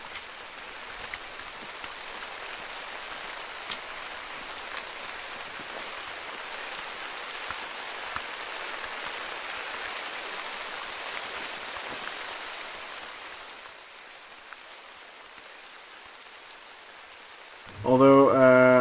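Steady rain pours outdoors around a rural porch, a dense hiss of drops on surfaces that eases slightly partway through, before a loud close burst of other noise at the very end.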